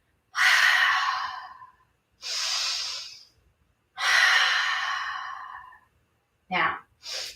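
Slow, deep breaths during a children's yoga stretch: three long, airy inhales and exhales close to the mic, each lasting over a second with pauses between, then two short, quick breaths at the end.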